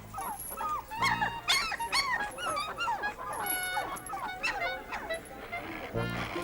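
Excited dog yipping and whimpering eagerly over offered sausages, a rapid run of high, close barks and whines with brief pauses, fairly soft overall.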